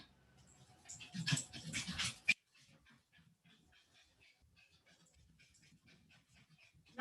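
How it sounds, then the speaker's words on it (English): A dog whimpers and cries in a short burst of strained, whiny sound, close and fairly loud, then falls to faint scattered whines and snuffles before a sharp knock at the end. "My dog is crying."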